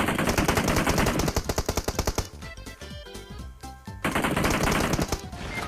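Automatic gunfire in the shooter game PUBG Mobile rattles in fast, loud bursts, breaks into separate shots, then returns to a sustained volley.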